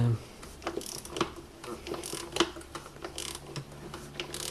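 Ratcheting clicks come in short bursts while an oil filter is tightened by hand on a 2004 Volvo V50 2.4, close and fairly quiet over a low steady hum.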